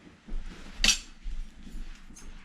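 A cooking pot is picked up and set down in a home kitchen, with one sharp metallic clink and soft, faint knocks and rattles around it.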